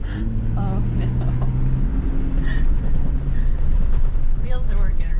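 A Jeep labors along an off-road trail at Logandale, its engine droning steadily with mechanical rattles and creaks while people talk and exclaim inside the cabin.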